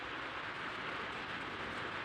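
Steady rain falling outdoors during the monsoon festival season, a continuous, even hiss of drops with no breaks, moderately loud and unaccompanied by voices.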